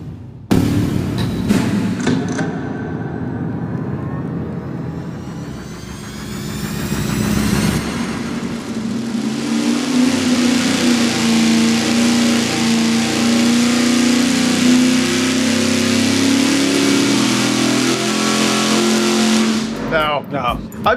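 Engine on a dyno fed by a 20 gallon-per-hour mechanical fuel pump, loudly revving and pulling up through a sustained high-rpm run before cutting off, with people talking over it at the start.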